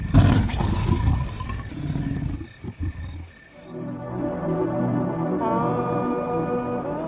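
Wild lions roaring at night on the African savanna, deep heavy roars rising and trailing off loud and close, then a lower rumble continuing with a tonal background drone.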